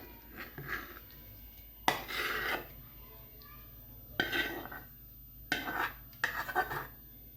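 Fried soybeans are scooped out onto a plate, heard as several bursts of metal scraping and clinking of a utensil against a pan and plate, separated by near silence.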